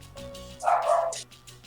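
A single close, mid-loud dog bark from the game Persona 3 FES, a short burst standing over steady low game background hum.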